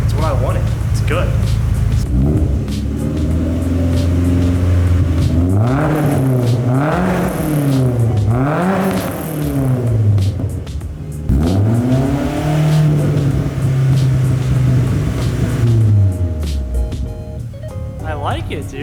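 A Nissan 240SX with an APEXi catback exhaust revs repeatedly, loud and close, with rising and falling engine pitch sweeps over a steady idle and a voice speaking in between.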